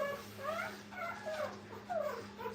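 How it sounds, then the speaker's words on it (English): Nursing puppies at a kennel let out several soft, high whimpers and squeaks while feeding, in a quiet room with a low steady hum beneath. "So we see here how the puppies are feeding."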